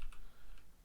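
A few quick keystrokes tap on a computer keyboard, close and light, against a low steady hum.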